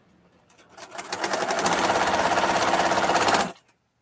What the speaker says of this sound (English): Got the serger out.